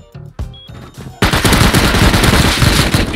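AK rifle fire in the survival game Rust: a few scattered shots, then a loud, sustained full-auto burst that rattles on without pause.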